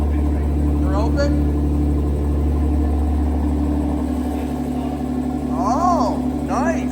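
A Nissan GT-R with a 4.1L twin-turbo V6 and valved exhaust idles steadily after a cold start with its exhaust valves closed, a deep continuous rumble under people talking and exclaiming.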